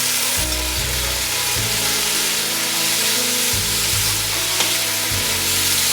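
Marinated beef for a beef broccoli stir-fry sizzling steadily in a hot pan with softened onions, a continuous loud frying hiss with a low music bed underneath.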